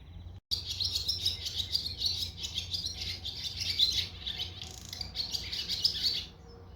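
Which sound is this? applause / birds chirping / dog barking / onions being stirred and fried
birds chirping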